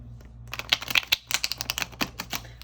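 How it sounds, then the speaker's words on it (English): Tarot cards being shuffled by hand, a close rapid run of crisp riffling flicks and soft taps in uneven bursts, with no voice over them. "just meditate with me here on these cards as I shuffle"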